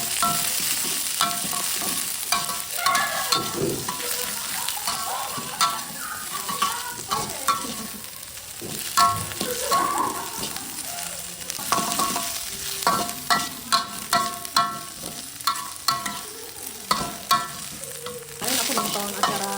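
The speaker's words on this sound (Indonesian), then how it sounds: "Daun bawangnya aku tumis sebentar." Spring onions sautéed briefly in a small amount of hot oil, giving steady sizzling and frying hiss with frequent scraping and clinking of a spatula stirring the pan, close and continuous with no talk.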